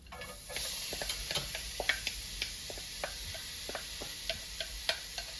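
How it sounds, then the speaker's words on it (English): Red onions sauté in a pan for a mushroom jackfruit burger, giving a steady soft sizzle with light scattered clicks and taps of stirring throughout, fairly quiet and with no talking. "So I finished sauteing the mushrooms, so next I'm gonna do the red onions."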